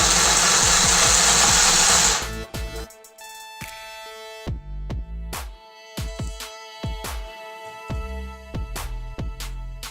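A mini electric sewing machine winds a bobbin with a loud whirring burst for about two seconds, then gives way to a series of sharp intermittent clicks and knocks close by.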